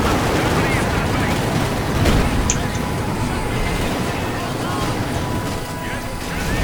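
Light tanks trade rapid cannon fire in a tank battle video game, a dense, continuous clatter of shots with one sharper burst near the middle, steady and busy throughout with a voice talking over it.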